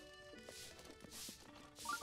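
Hooves of a purple horse clip-clop quietly in The Legend of Zelda: Breath of the Wild, a few scattered steps over a steady game background hum.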